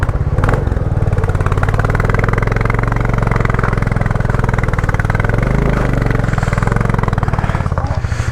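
A motorcycle engine idles and runs loudly and close by in first gear while the rider works the clutch, a steady throbbing drone with slight swells throughout, on a road trip from India to Manang, Nepal.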